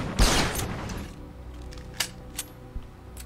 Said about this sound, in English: Let's say we want to, I don't know, shoot this box.